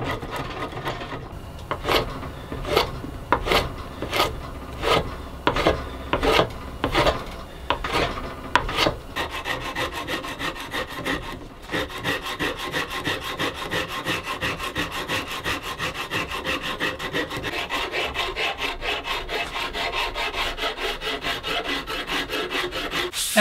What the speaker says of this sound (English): I'm using a combination of a spoke shave and several files and rasps to work the neck down to the size that I need.